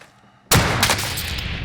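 In the video game Warzone, a sudden loud gunshot bursts out of near silence, followed by sustained crackling gunfire and echoing blasts that continue without pause.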